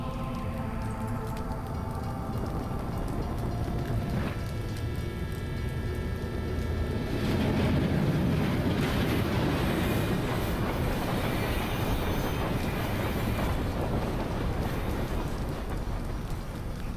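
A railroad crossing toy burning in the Little Inferno video game, with a steady roar of train rumble and clattering wheels like a passing rail car, continuous and fairly loud for the whole stretch.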